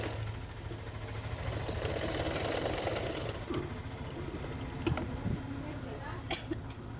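A sewing machine stitches blouse parts for a double katori blouse in a steady, fast mechanical rattle for several seconds, then slows into softer clicks, with a voice faintly present.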